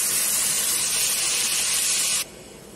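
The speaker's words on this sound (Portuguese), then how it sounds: "Aí vou colocar água. A água já quente, tá? Que eu coloco. Deixar refogar mais um pouquinho." Hot water poured into a pan of sautéing fish head broth gives a loud, steady hiss of sizzling steam that cuts off abruptly to a quieter simmer.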